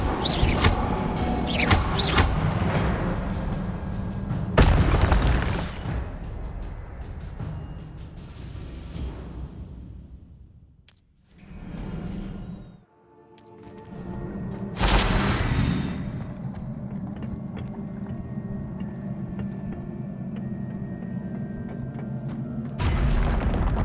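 Incendio fire spells in Hogwarts Legacy go off in loud, bursting whooshes and booms over rumbling combat effects, with short quiet gaps and sharp blasts between them.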